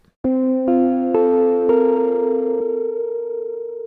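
Sustain layer of the Soundpaint 1974 Jagra instrument with slight distortion, reverb and delay: a sequence of held tonal notes stacking into a sustained chord that rings on and slowly fades, with a faint wavering shimmer.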